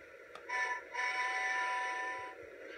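A small Lionel Pennsylvania Flyer toy model train whistle sounds in two tones, a short toot followed by a longer steady blast, fairly close and clear.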